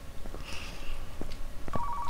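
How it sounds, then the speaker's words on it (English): A faint electronic telephone ring from the video game Car Mechanic Simulator 2015 sounds briefly near the end, a thin steady tone over low background hum. "I heard the phone ring then."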